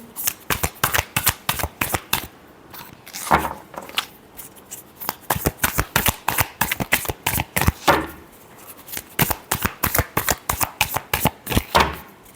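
A deck of tarot cards is shuffled by hand, close and loud, in rapid repeated riffling bursts with short pauses between them for about twelve seconds. No one speaks.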